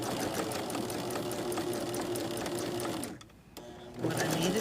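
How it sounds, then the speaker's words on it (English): A sewing machine runs steadily, stitching through a charity quilt block, its needle chattering in a fast even rhythm close by, briefly pausing before starting up again. "When I stitch this, I want to make sure I go right through the cross."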